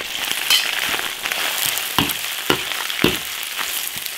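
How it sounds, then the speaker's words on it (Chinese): Beef intestines stir-fry in hot oil in an iron wok, crackling and sizzling steadily. Regular thuds of the spatula scraping and tossing cut through every half second or so, up close. "牛肠子直接下锅爆炒"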